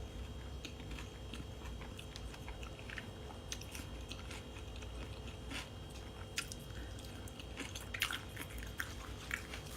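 Someone chews fermented beef sausage (naem) close to the microphone, producing repeated soft crunches and wet squishy bites in an irregular rhythm over a quiet background.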